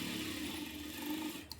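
Sewing machine running steadily as it stitches a seam through layered fabric, a continuous close whir with a small click near the end.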